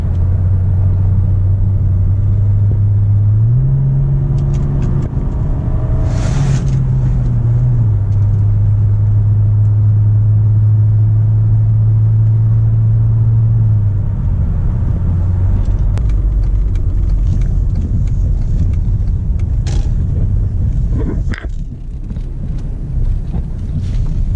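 A Mercedes E300 with an OM606 diesel engine driving, its steady low engine drone shifting pitch as it accelerates, with road rumble and wind noise throughout and no talking.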